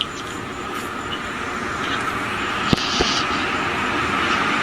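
A passing train gives a continuous loud rumbling roar with a couple of sharp clanks partway through, steady and close throughout with no speech.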